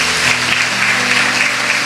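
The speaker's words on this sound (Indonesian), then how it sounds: "Tepuk tangan dong." A church congregation claps in a brief, steady burst of applause at a sermon by Ps. Debby Basjir, loud and dense throughout with a low hum beneath.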